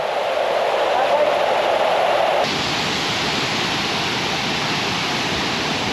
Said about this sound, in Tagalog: Kawa-kawa Falls